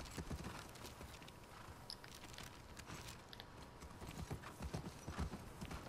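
A horse's hooves clip-clop steadily in The Last of Us Part II, with a continuous quiet run of muffled hoofbeats over ground and faint crunching.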